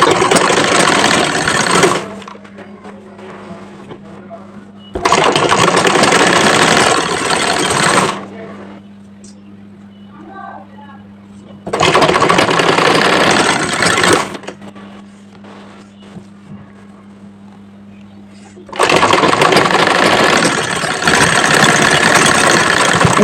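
A sewing machine runs a seam on a kameez in three loud, sustained bursts of rapid stitching, with a low motor hum between them.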